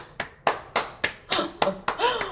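Seven or eight sharp hand claps in a steady, even rhythm, close and crisp, with a voice briefly audible near the end.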